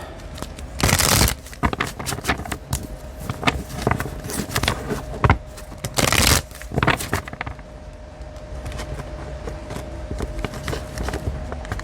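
Repeated papery riffling bursts of tarot cards being shuffled, several quick flurries spread through a quiet room with soft handling noises between.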